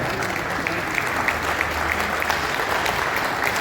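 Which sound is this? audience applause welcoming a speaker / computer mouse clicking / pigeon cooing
audience applause welcoming a speaker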